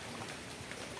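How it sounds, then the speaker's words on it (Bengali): Steady rain falling outside on a wet morning, a dense, even hiss of drops that fills the short moment without pause or voices. "বৃষ্টি হচ্ছে, আর ঝিমঝিম ঝিমঝিম করে বৃষ্টি হচ্ছে"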